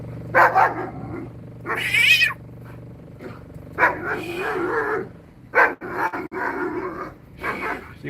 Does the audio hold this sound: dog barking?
yes